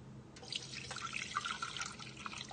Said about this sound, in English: what we're gonna do is just pour this mixture into our bowl that we've got set up with a